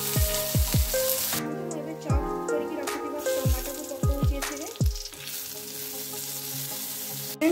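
Mustard seeds and cumin crackle and sizzle in hot oil in a pan for an Odia ilish fish jhal, with a steady frying hiss broken by several sharp pops and stirring clatter, close and fairly loud.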